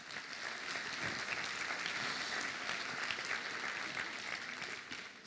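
An audience at a public science talk applauding steadily as a show of hands, a continuous even roar of many clapping hands lasting several seconds, somewhat distant and moderately loud.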